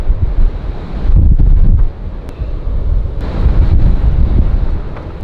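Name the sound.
strong windstorm blowing around an Airstream trailer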